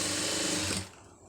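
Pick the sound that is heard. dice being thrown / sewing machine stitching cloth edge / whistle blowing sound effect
sewing machine stitching cloth edge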